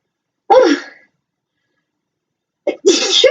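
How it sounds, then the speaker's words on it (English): Two loud sneezes come close up, one short burst and then a fuller, longer one about two seconds later, with silence in between. "I feel like I'm going to sneeze."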